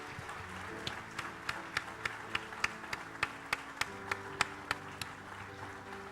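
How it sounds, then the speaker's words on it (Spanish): A congregation at a Sunday church service claps in a steady, even rhythm. The sharp, regular hand claps sound faint and distant over a low background hum. "Dale un aplauso"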